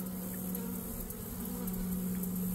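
Honey bees drone steadily inside a beehive that holds two queens, a continuous close, dense buzz with a strong low hum and no voices.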